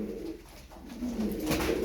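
Tumbler pigeons coo in a loft, soft low rolling calls rising louder near the end, close and alone without talk.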